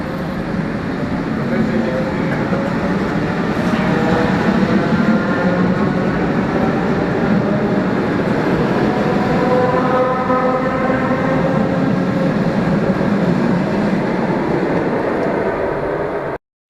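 An ordinary electric commuter train pulls into Ozerki station in Saint Petersburg, a loud continuous rumble with rising and falling motor whine held throughout, close by.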